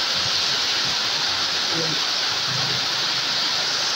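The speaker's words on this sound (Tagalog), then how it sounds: "Ang lakas ng ulan." Heavy rain pours down steadily on a rural hut roof and surroundings, a dense, loud, unbroken hiss that fills the whole stretch, with faint voices murmuring underneath.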